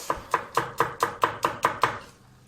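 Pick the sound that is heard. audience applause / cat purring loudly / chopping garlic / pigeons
chopping garlic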